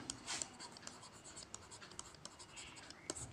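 Writing on a board during an English grammar lesson, heard as a faint, continuous run of scratchy strokes and light taps, close but quiet, with no clear talk over it.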